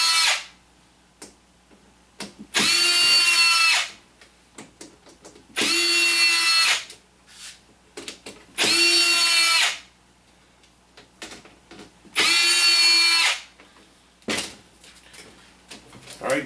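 A power drill with a Phillips number 2 bit whirs in four loud bursts of about a second each, backing screws out of a box fan's rear cover, with handling clicks between bursts.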